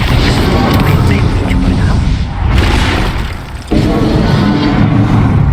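A Bombarda blasting spell in Hogwarts Legacy booms loudly, with continuous crashing bursts and rumbling impacts throughout and short sharp cracks at intervals, while a voice shouts over the din.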